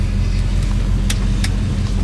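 Interior of a 1968 Ford Fairlane 500 on the move, a steady low engine and road rumble with a couple of brief higher clicks or squeaks, no speech.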